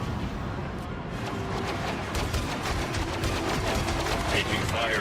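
Blaster gunfire in Star Wars Outlaws crackles in rapid, repeated bursts throughout a busy firefight, a dense steady barrage of shots with voices speaking over the action.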